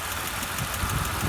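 A dusty 2005 BMW 325i engine with no radiator runs with a steady, close mechanical rumble and no pauses.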